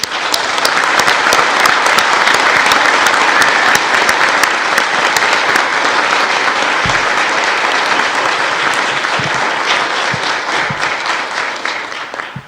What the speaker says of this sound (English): Be it resolved that all of the many hands that help do the work of this convention be applauded.